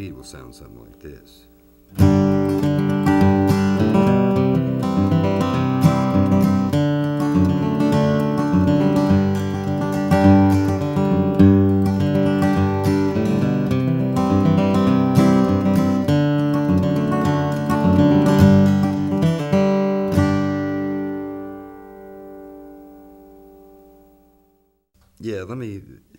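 Close, loud acoustic guitar rhythm strumming runs steadily for about twenty seconds after a brief spoken lead-in, then rings out, and a voice returns at the end.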